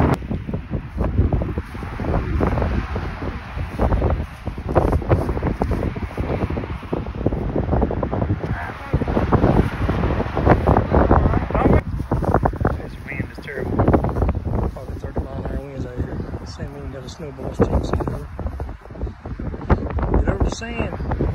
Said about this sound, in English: The wind's going to blow him over.